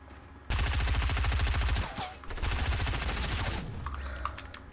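A submachine gun in the Fortnite video game fires two long rapid bursts of closely spaced shots, loud and continuous, with a short break between them and scattered smaller impact and effect sounds at the end.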